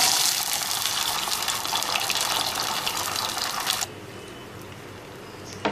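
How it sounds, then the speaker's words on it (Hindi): Chicken stock poured into a pan while cooking restaurant-style chicken shashlik sauce, a steady close gushing, splashing pour for nearly four seconds that stops abruptly, leaving a faint room hush with a small clink at the end. "साथ ही इसमें ये चिकन स्टॉक भी डाल दें।"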